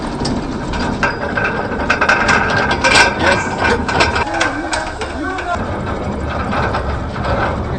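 An anchor windlass on a ship has its brake opened and gives off a continuous loud mechanical rattle and clatter of gears, with people talking over it.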